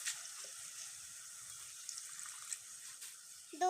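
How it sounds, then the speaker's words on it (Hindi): Water is poured into a pan of frying keema. A steady hiss carries throughout, and a short louder splash comes at the very end. "हम थोड़ा सा पानी ऐड कर लेंगे।"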